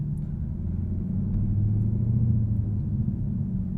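A 2022 Chevrolet Camaro ZL1 1LE with its supercharged 6.2-liter V8 gives a deep, steady low rumble, swelling slightly midway as if lightly revved, heard from inside the car with no voices.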